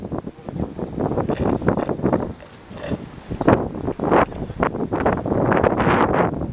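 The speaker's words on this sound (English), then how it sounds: "A little windy down here, though. Good breeze, though." Gusty wind buffets the microphone on a downtown Montreal street at the corner of Metcalfe and De La Cathédrale, loud irregular rumbling bursts rising and falling throughout with brief lulls.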